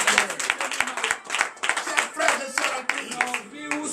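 Worshippers at a morning prayer service in Benin clap in acclamation, sharp uneven hand claps over one another, with voices calling and talking over the clapping throughout.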